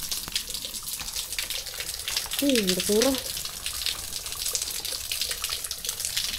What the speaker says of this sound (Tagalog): Lakas ng tulo.